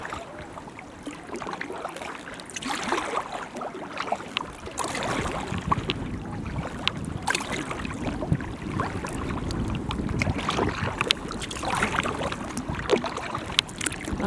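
A canoe is paddled across calm water in Labrador Hollow in autumn, with soft repeated paddle swishes and gentle water movement, close and low in level, steady throughout.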